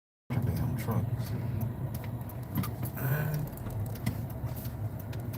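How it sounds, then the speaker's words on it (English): Trucks pass along a road nearby, their engine rumble and tire noise swelling and fading continuously over the clip, with a voice briefly heard alongside. "Damn trucks."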